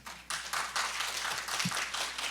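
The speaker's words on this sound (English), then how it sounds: "Applause, please." An audience at an academic symposium on humans and AI applauds a professor's introduction, a steady patter of many hands clapping at moderate distance for a couple of seconds.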